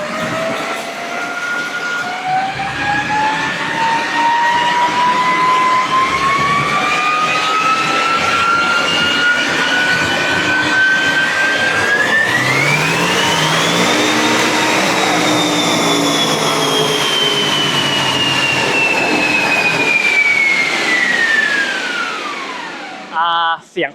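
A loud remapped BMW engine winds up steadily to a shrill high-revving scream, holds, then drops away and cuts off abruptly.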